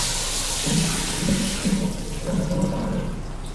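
A hotel shower runs with strong water pressure, a steady broadband hiss of spraying water with a low rumbling undertone, close and continuous.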